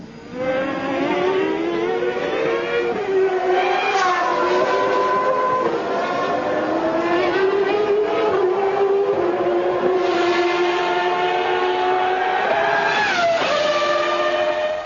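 Ferrari Formula 1 car from 1995, its V12 engine screaming loud and close as it races toward the finish, pitch rising and falling through gear changes and passing cars over a steady roar.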